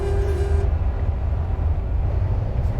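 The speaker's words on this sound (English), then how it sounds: "Oh, a train!" A train passes in the American Truck Simulator video game, heard from a truck cab as a steady, loud low rumble with broadband rolling noise throughout, with no talking.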